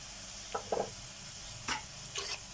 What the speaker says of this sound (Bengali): পেঁয়াজ কাঁচামরিচ রসুনটা ভাজা হয়ে গেছে।